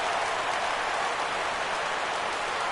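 A stadium crowd in the baseball video game MLB The Show 16 roars steadily as fans get up on a full count, a dense, even wash of cheering noise throughout.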